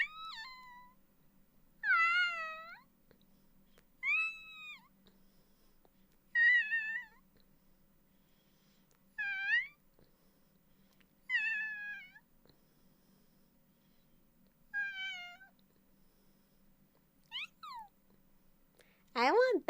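A cat meows repeatedly, about nine separate drawn-out calls spaced a couple of seconds apart, clear and close against a faint background hum.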